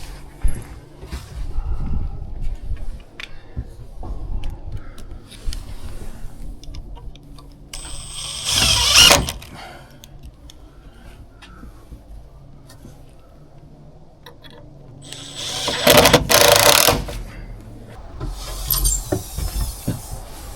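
A 1-inch impact driver drives helical screws into wood for a frost-proof shed build in Alaska, giving two loud rattling bursts of about a second each, separated by quieter ticking and handling noise.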